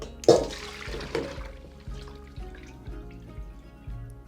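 Hot water poured over oden ingredients on a tabletop to rinse off oil: a short splashing gush up close, then a trail of dripping and trickling that fades away.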